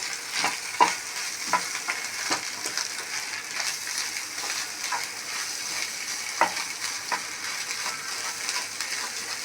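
Chicken masala curry fries in a pan, a steady close sizzle broken by repeated scraping stirs of a spoon at an uneven pace, with no voices.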